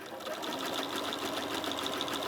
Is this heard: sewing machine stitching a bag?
yes